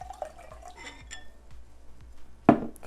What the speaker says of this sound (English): I am using a Mean Girls glass